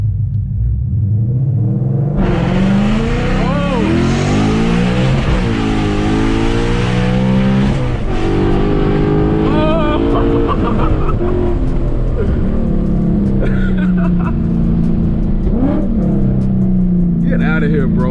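Ford Mustang GT with a drag setup launching from a dig: a loud, close engine roar that climbs through several hard gear pulls and holds its rumble throughout, with voices over it.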